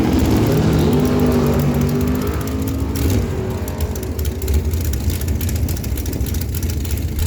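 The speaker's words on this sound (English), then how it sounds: "Doug Rathall is going to line up beside him in the Pro Construction Lane with the 2011 Dan Page Dragster." A 2011 Dan Page dragster with a 572 big-block Chevrolet engine launches down an NHRA drag strip at Miramichi Dragway, its loud, heavy engine roar rising at first, then sustaining as a dense, rumbling drone.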